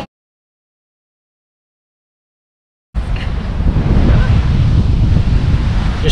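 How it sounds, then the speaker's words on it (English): Big ocean surf on a Fraser Island beach, with a steady, loud roar of breaking waves and wind buffeting the microphone, starting abruptly after about three seconds of silence. "Big waves."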